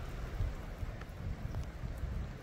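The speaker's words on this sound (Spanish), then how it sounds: "Está lloviendo, señores, está lloviendo." Steady, faint rain falls in the mountains near a village, a soft continuous patter with a low rumble of wind and no voices.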